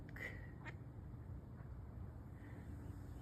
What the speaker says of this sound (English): So there's the mom and daddy duck.